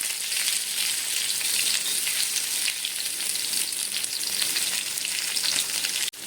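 Onions frying in oil in a tava for a ragi dosa tomato chutney, a steady loud sizzle crackling continuously with no talk, cut by a brief dropout near the end.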